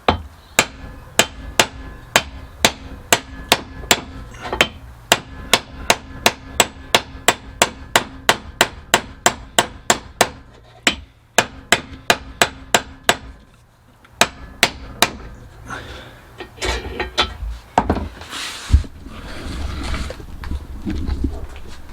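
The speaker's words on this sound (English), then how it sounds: "got a big ball peen hammer which I've got over here" A big ball peen hammer strikes a brake part on a Honda Civic/Integra front brake setup again and again, knocking it out. Dozens of loud, sharp metallic blows land in a steady rhythm, then the strikes thin out and give way to clatter and handling noise.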